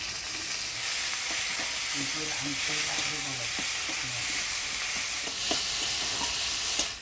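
Ginger and chili paste masala with tomato frying in a pan. A steady sizzle continues under repeated stirring and scraping, with a few sharper clatters from the utensil near the end. The sound is close and continuous, and no one speaks.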